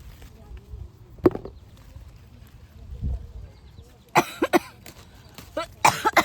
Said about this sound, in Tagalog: Naubo-ubo na ako.